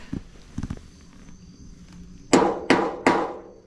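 A hammer strikes steel three times in quick succession, loud, close and ringing, to dent the metal before drilling, after a few softer knocks and shuffles.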